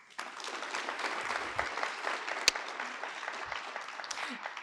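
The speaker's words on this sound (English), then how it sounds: "Please give one last round of applause to the 2023 Strive to Thrive grant finalists" An audience claps at the close of a grant awards ceremony, cheering the 2023 Strive to Thrive finalists. The applause is moderately close, steady and crisp, with a sharp single clap spike midway, and it runs for several seconds.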